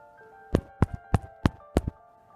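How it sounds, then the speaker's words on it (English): Five sharp knocks on a door or wall, evenly spaced about a third of a second apart, close and distinct against a quiet background with a faint steady hum. "I hear the knocking."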